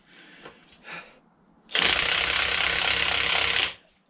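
A power tool drives a spring compressor tightening the coil spring on a front car strut of a Citroen C4 Grand Picasso, a loud steady mechanical rattle lasting about two seconds after some quieter clunks.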